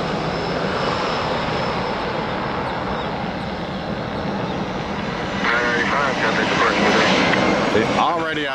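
A light aircraft engine runs at full power on a takeoff roll, a loud, steady roar that swells and grows rougher partway through, with voices talking over it.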